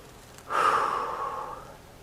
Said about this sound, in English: Relax and breathe.